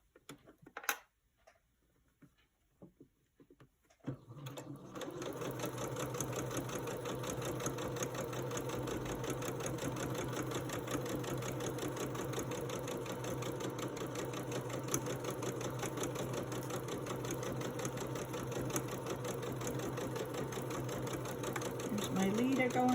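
A few light clicks and handling noises precede a sewing machine stitching quilt pieces, which then runs continuously at a steady rapid pace, close and even, for the rest of the time.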